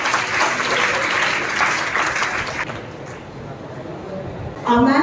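A crowd claps loudly for the principal at a school farewell event, a dense burst that thins out near the middle before a voice cuts in at the end.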